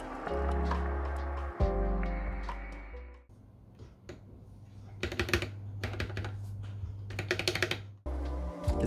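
Keys on an Epomaker EP84 mechanical keyboard with freshly lubed stabilizers are pressed in quick bursts of sharp, close clacks, separated by short pauses and handling noise.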